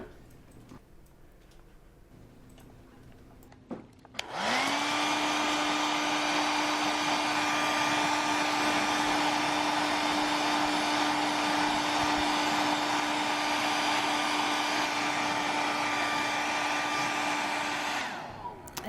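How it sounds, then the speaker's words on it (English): Hair dryer switched on nearby to dry paint on a 1/6 scale custom action figure, spinning up sharply to a steady loud whine and blowing roar for about fourteen seconds before cutting off. "let's get the hairdryer out"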